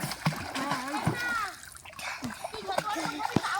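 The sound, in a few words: water splashing from swimming in a pond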